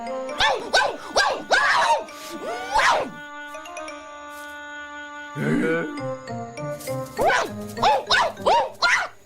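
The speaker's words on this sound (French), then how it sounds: "Bon sang, ils ont des chiens." Dogs bark in short repeated bursts in an animated cartoon scene, the yelps loud and near, separated by a stretch of tinkling, ringing tones with no barking.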